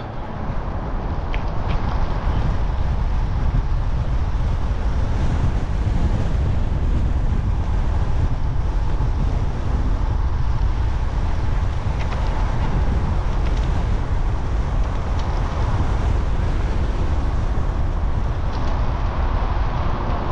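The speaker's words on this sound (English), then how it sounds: "Holy shit, it's windy." Strong wind buffets a cyclist's microphone on an outdoor bike trail, producing a loud, constant low roar and rumble that runs unbroken throughout with no speech.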